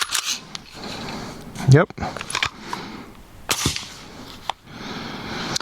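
Suppressed 300 Blackout rifle firing subsonic ammunition, with no ejection port pop, making a few fairly quiet muffled reports and mechanical clacks spread across the clip, with brief talk between them.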